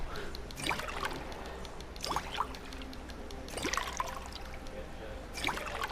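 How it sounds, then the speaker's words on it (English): Water pours and trickles in a few bursts as bottles are filled in Fallout 4, with faint splashy bubbling between them at moderate volume. "So I should be able to fill up water bottles now."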